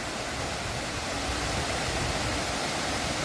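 River water rushes below Dhari dam in a broad, constant hiss-like roar, loud and steady with no pauses or voices.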